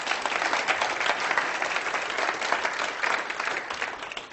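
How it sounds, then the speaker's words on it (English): An audience gives a round of applause, a dense, even wash of many hands clapping that holds steady for a few seconds without voices. "Give him a nice round of applause."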